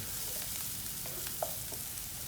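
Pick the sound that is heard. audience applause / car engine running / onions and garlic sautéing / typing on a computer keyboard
onions and garlic sautéing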